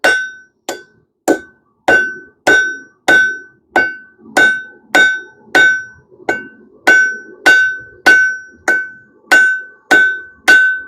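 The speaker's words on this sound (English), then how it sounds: "We're just rotating it as we hammer it" Steady, ringing hammer blows on hot steel on an anvil, about seventeen evenly spaced strikes while tapering and rounding the bar, each a sharp clang with a bright metallic tone, close and loud.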